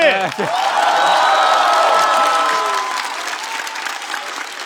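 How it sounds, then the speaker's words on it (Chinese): A studio audience at a comedy roast show breaks into loud, dense applause with some cheering that slowly eases off, while a voice speaks briefly at the start. "再次把掌声送给小齐。"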